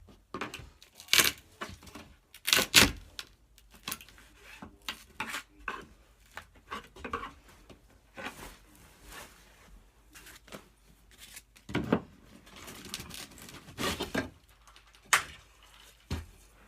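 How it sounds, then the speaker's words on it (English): Baseboards are pried off in a closet with a hammer and screwdriver: scattered sharp knocks, clicks and scraping clatters come at irregular intervals, fairly quiet and close, with no talking. "I do have to pry and kind of work with my hammer and a screwdriver to try to"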